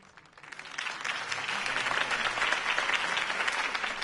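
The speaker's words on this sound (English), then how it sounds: "could have heard that applause" A crowd bursts into applause that swells within a second and holds as a dense, steady clapping roar.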